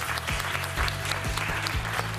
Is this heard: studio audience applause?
yes